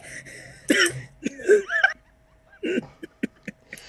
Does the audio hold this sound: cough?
yes